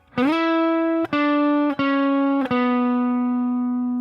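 Sustained electric guitar notes sliding between pitches, each new note picked with a sharp attack and ringing on, with a long fade at the end.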